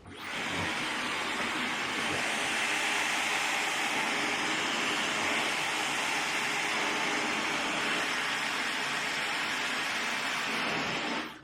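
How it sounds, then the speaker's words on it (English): A hair dryer aimed at a round brush during a blowout blows steadily and loudly throughout, a constant broad whooshing hum close by with no pauses. "constantly pointing the blow dryer at my round brush"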